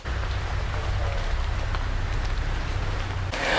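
Light drizzle falls in Kibale National Park forest in Uganda, a soft, steady patter of rain close by and continuous throughout, with no voices.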